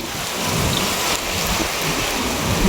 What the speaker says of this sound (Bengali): কি পরিমাণে বৃষ্টি চলে আসছে